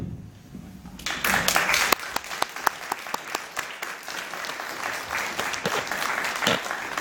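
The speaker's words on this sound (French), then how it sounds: "j'aimerais simplement que le public ici te fasse une ovation, parce que tu le mérites" An audience at a French UFO congress in Languedoc gives a sustained ovation, a dense, loud wash of applause that starts abruptly after a quieter moment and continues steadily, with a few sharper individual claps standing out.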